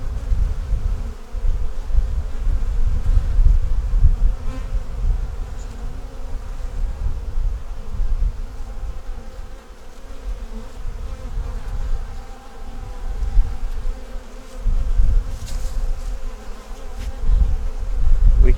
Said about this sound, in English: A lot of bees on there.